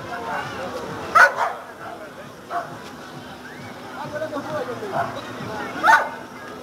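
During a vigilance training exercise, a dog lets out two brief barks several seconds apart, with softer yips between them and someone talking throughout.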